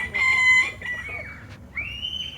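Chickens, a French Copper Maran and an Australorp, make loud, close squawking and clucking calls in a few rising bursts with brief pauses between them, heard alone.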